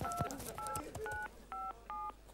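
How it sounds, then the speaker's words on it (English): Telephone dialing tones for a phone call on a live TV footy show, a quick series of distinct beeps growing more evenly spaced toward the end. "we're going to make another phone call for the following week"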